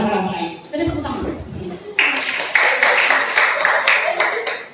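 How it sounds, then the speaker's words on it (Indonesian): A church congregation breaks into clapping after a sermon, first under laughter and chatter, then a bright, dense burst of many hands clapping together. "Kasih tepuk tangan."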